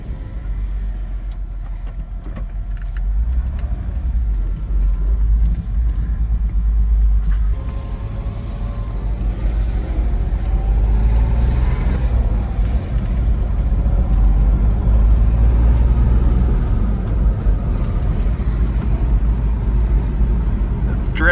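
A Porsche Boxster engine with a misfire drones steadily while driving, a deep constant rumble with road noise filling the cabin, and a voice speaking over it.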